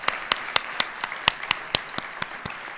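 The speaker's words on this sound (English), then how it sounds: "Let's give one more round of applause for all our great speakers." A small, faint round of applause at the close of the 2018 TED-style talks, sounding like only one or a few people clapping in an even, steady rhythm of about a dozen distinct claps.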